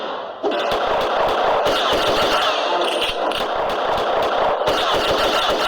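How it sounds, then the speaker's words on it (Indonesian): Video game shootout with continuous dense gunfire, loud and sustained, with rapid bursts and impacts layered over each other and a sharp onset just after the start. "Ternyata tembak-tembakan gini ada temponya."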